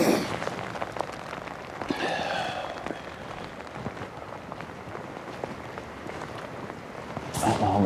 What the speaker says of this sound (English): I sit there a full hour in a steady downpour